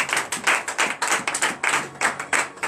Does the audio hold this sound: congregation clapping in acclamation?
yes